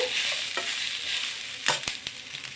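Masala fries and sizzles steadily in a pan while a spoon stirs it, with a few sharp scraping clinks near the end. No one speaks.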